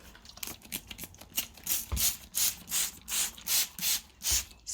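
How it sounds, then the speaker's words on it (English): Spray bottle misting Rose Shield onto an indoor house plant: a series of about seven or eight rhythmic hissing spritzes, close and fairly loud, with no talk. "spray it down anyway."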